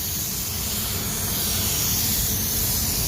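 A spray gun coats a car fender with paint from about 10 to 20 cm away, giving a steady, close, unbroken airy hiss from start to finish with no voices.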